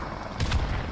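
Helicopter killstreak in Modern Warfare firing in a burst of heavy gunfire, a steady rumble with a louder rapid volley in the middle of the clip.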